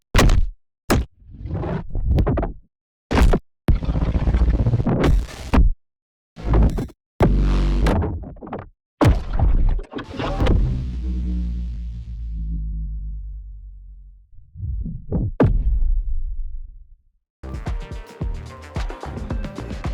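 A series of deep, booming impacts, some short and punchy, one with a long rumbling tail, ending in a dense noisy burst.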